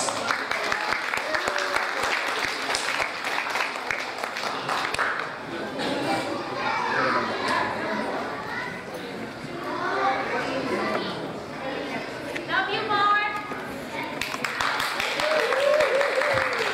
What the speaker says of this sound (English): Let's give them a round for applause.